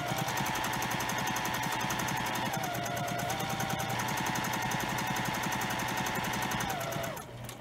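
A sewing machine stitches fabric for foundation paper piecing at a short stitch length, its rapid rhythmic needle clatter running steadily and loud for about seven seconds before slowing and stopping near the end.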